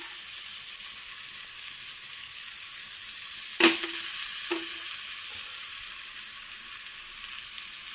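Bottle gourd slices frying in oil in a pan give a steady, fairly quiet sizzle throughout, with a couple of brief clinks of a utensil partway through.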